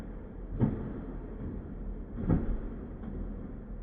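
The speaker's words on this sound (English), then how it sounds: "The noise you can hear is it's driving over the floor. There's metal grates in the floor." Polestar 2 electric car driving slowly across metal floor grates inside a hangar, giving two distinct clanking rattles a couple of seconds apart and a fainter third, over a low steady hum.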